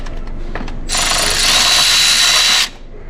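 A power tool whirs loudly for about two seconds, spinning off the crank pulley bolt on a 2003 Kia Sorento during timing belt work, with faint metallic clicks before it starts and a quieter room tone after it stops.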